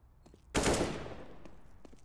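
A sharp burst of rifle gunfire in a CS:GO match on the Overpass map, a single loud crack with a short decaying tail, and faint clicks before and after.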